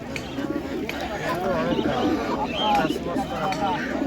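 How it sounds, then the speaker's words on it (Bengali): Pigeons coo repeatedly amid a busy poultry and pigeon market where birds are being sold, with people talking nearby and a general crowd murmur in the background. "পায়রা দেখো বন্ধুরা পায়রা বিক্রি হচ্ছে"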